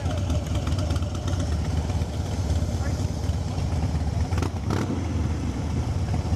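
A Harley-Davidson Breakout 103 motorcycle rumbles steadily at close range as it is moved into a parking spot, its low engine drone continuous throughout with voices talking over it.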